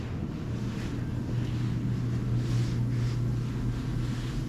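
A PRD-817 paint spray gun sprays steadily nearby, a continuous airy hiss with a low constant hum underneath, slightly swelling partway through, with no talking.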